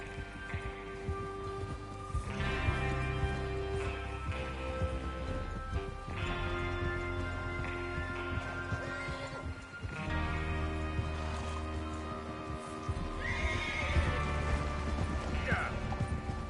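Horses run in Red Dead Redemption 2, with a steady clip-clop of hooves under a music score and ambient game sounds, carrying on continuously at moderate loudness.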